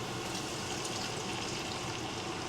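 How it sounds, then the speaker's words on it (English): Water pours steadily into a pot for dim sum steamed rice, a continuous close gushing fill that stays even and loud from start to finish with no talking. "Now we add 3 cups of water in."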